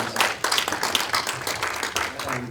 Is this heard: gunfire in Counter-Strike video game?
no